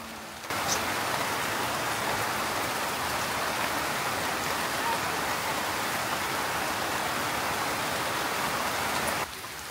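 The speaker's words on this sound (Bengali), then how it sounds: "হয়তোবা এই বছরের লাস্ট বৃষ্টি এটা" November rain pours steadily on a farm, a dense, even hiss that starts abruptly and keeps up at a constant level before cutting off near the end.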